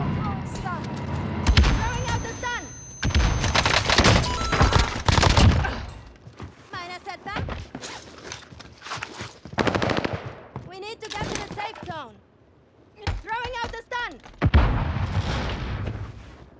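Rapid bursts of gunfire from a C58 and MP40 loadout in Warzone Pacific crackle near and far, with machine-gun volleys and sharp single shots overlapping a player's talk.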